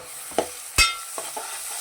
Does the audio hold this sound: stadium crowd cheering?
no